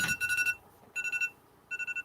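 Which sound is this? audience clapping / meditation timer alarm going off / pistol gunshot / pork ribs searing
meditation timer alarm going off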